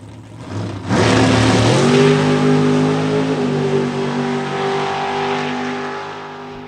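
A nostalgia funny car at a drag strip in the TDRA Nostalgia Eliminator 3 class, its engine idling then roaring up into a loud sustained full-throttle run that slowly fades as it pulls away.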